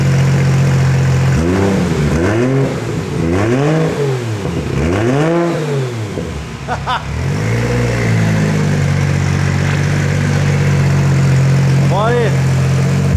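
BMW E46 fitted with a 2JZ engine and a MaxxECU with antilag, revved from idle in several quick rising-and-falling blips close by, then settling to a steady idle before one last short rev.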